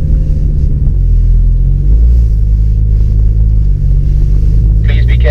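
A Porsche sports car engine on a road tour, a loud, close, deep droning rumble with steady low tones that swells slightly as it accelerates, and a brief higher burst near the end.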